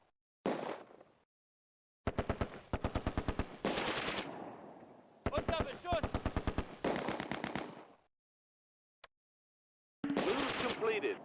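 Bursts of MG42 machine-gun fire from across a bridge in a Close Combat war game set at Arnhem, loud rapid automatic volleys in several separate strings with silent gaps between them.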